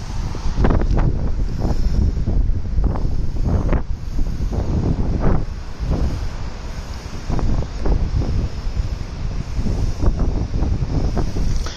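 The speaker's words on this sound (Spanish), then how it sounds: "Está bien ventoso." Strong, cold wind blowing outdoors, buffeting the microphone in loud repeated gusts with a constant roar underneath, close and rough, with no speech.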